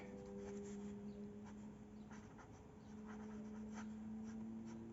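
A Schneider Ray fountain pen with a medium nib and a large ink cartridge, in its grey and black version, scratches steadily across paper in a continuous soft writing sound over a low, constant background hum.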